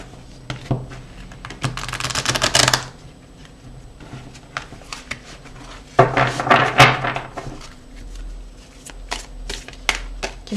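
Dropped cards being gathered and sorted on a table, close and unvoiced: light taps and clicks with two longer bursts of shuffling and sliding card sounds.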